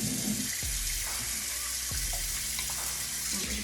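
Tap water running steadily into a basin while a cat is being bathed, a constant hissing splash with a few soft low bumps and thuds from handling, no talking.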